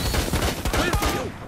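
Gunfire in Rainbow Six Siege, a rapid burst of sharp shots rattling in quick succession over about a second, loud and close with echoing tails.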